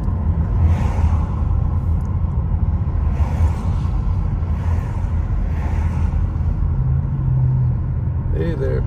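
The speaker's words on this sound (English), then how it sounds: "Hey there, big truck." A big truck rumbles past on a snowy mountain road in Big Bear, California, a loud steady low roar with rolling whooshes as it goes by, heard from close inside a moving vehicle.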